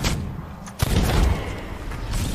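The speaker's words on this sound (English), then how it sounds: "Gunfire. That's me." Gunfire rings out in the pirate video game Sea of Thieves, a couple of sharp reports with one heavy boom standing out midway, set against a rumbling background with no talking.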